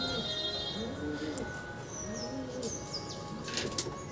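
Kalshira-breed Andhra Madi pigeon kept at home, giving several soft, rolling coos close by with a brief flutter of wings, while other birds chirp faintly over a steady background hum.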